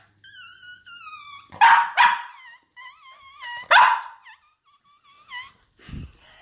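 A small rescue dog whines in high, drawn-out tones between a few sharp, close barks and yelps, with snuffly breathing in the pauses.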